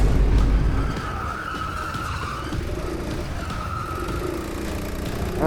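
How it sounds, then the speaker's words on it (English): Tires scrub through a four-wheel slide on an indoor go-kart track, a loud sustained skidding squeal over the steady drone of the kart engine, with no talk. "Oh, nice four-wheel slide there."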